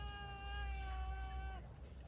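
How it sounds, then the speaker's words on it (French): A young cat gives a single drawn-out, fairly faint meow lasting over a second against a low ambient hum, with no talking. "C'est un chat qui parle beaucoup,"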